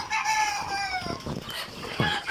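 Egyptian Fayoumi chickens calling near the microphone in a continuous run of clucks and crow-like tones, layered and fairly loud, with no talking.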